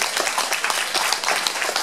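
An audience at a Hong Kong Nepali community event applauds university graduates with dense, sustained clapping from many hands that runs close and loud throughout.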